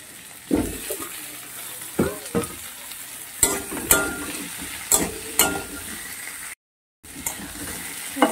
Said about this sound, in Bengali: আলুগুলোকে একটু ভালো করে ভাজবো